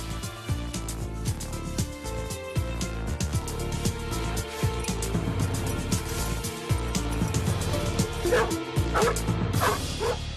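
Human remains detection dog barking and yipping repeatedly over dense, continuous background sound, with short bursts and a few whimpers in an outdoor search setting.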